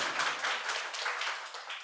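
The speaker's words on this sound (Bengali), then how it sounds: "জোরে হাততালি।" An audience applauds a correct quiz answer at a medical college quiz event, a brief soft patter of clapping hands from a moderately distant crowd.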